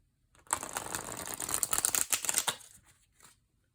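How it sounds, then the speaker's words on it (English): A new tarot deck is riffle-shuffled, giving a loud, rapid flutter of cards that lasts about two seconds and ends in a few soft taps as the deck settles. "Let's see how this shuffles."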